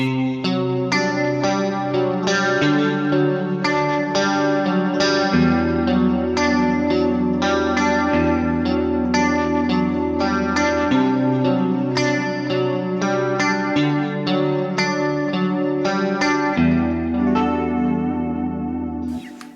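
Electric guitar played through a Mesa Boogie Mark IIC+ amp simulator with chorus and echo, a bright rhythmic strummed and picked pattern lasting throughout, loud and alone.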